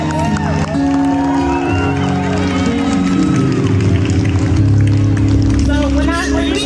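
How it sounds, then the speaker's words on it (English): An audience at an 8th grade graduation ceremony cheers and whoops loudly, a sustained crowd roar with scattered shouts and high yells, close and continuous over the whole stretch. "Come on now, let's make some noise for these 8th graders."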